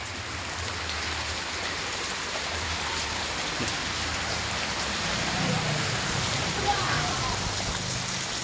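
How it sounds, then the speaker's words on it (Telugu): Steady rain falls outside a house in a village, a constant dense hiss of drops on surfaces throughout, with a voice talking over it. "వాన పడుతుంది కదా"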